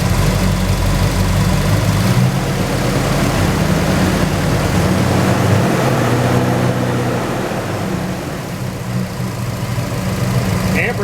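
A Pontiac GTO engine runs steadily and loud, its low rumble holding through most of the stretch with a slight change in tone partway as the revs are brought up a little.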